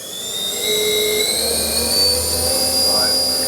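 Spindle of a new Bridgeport-Hardinge GX480 vertical machining center spins up, a steady high whine with several sustained tones and a rising pitch change near the end, loud and close.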